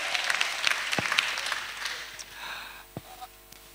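A church congregation at a pastoral academy gathering in Abidjan breaks into sustained applause, a dense wash of clapping that fades toward the end, with a couple of sharp low thumps.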